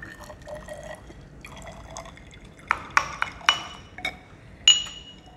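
About 10 ml of cool water is poured into a glass vessel during a banana ripening monitoring procedure, giving a few soft drips followed by sharp, close clinks and splashes.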